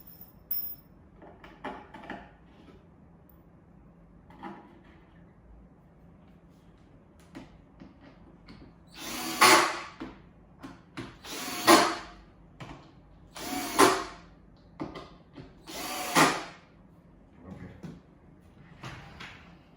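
A power driver sinks screws through countersunk holes into a car bed platform, six or so short whirring bursts of a few seconds each, close and loud, with quieter handling clatter between them.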